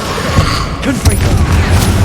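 In Hogwarts Legacy, a Confringo fire spell bursts with a loud boom during a first trial boss fight, standing out over busy combat noise and a voice.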